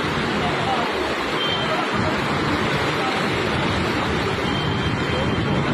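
Steady, loud rush of floodwater after heavy rain in Alangulam, Tenkasi, fills the whole clip, a continuous broadband roar pouring past, with faint voices in the background.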